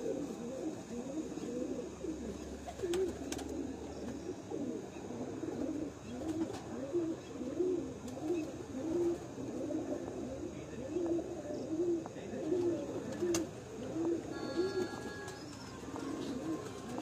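Pigeons coo softly in a steady run of repeated low calls amid outdoor background noise, with faint rustling and no clear speech.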